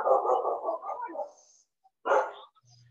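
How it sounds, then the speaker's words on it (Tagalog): A dog barks in a short burst of several quick barks, pauses, then gives one more bark, fairly close and alone with no talk. "Pasensya sa mga aso."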